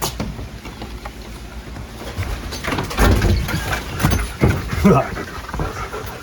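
A dog pants close by in a large converted silo building, with rustling and footsteps around it and a person talking over the top.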